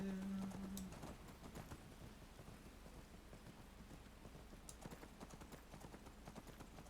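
Steady clip-clop of horse hooves trotting at an even pace in the video game Skyrim, mixed with a constant rain-like hiss and low rumble.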